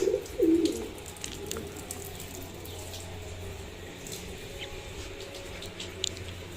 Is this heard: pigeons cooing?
yes